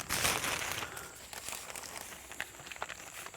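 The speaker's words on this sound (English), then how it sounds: "then I'll put a plastic bag over it to keep the humidity in" A plastic bag rustles and crinkles as it is drawn over a pot of freshly planted garden cuttings, a close, continuous crackling that starts loud and then settles into softer scattered rustles.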